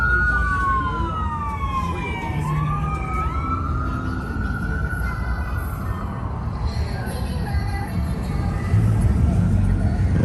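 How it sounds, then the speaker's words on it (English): Ambulance and fire engine sirens wailing along the busy Las Vegas Strip, rising and falling sweeps at moderate distance over steady street traffic rumble and crowd noise. "wouldn't be Vegas without some ambulance, fire engines, and everything else."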